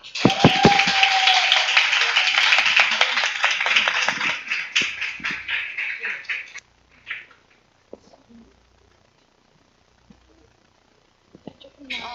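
A seminar audience at a Nu Skin sales lecture greets a lecturer with loud, dense clapping and cheering for about six seconds. The noise then cuts off abruptly to near silence, broken by a few faint stray sounds.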